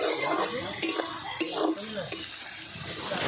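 Chinese duck meat sizzles in a hot pan while being stirred, with steady frying hiss and a few sharp scrapes and clinks of the spoon against the pan, close up, alongside faint background voices.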